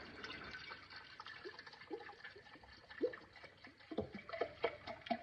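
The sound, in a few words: white vinegar poured into a quart jar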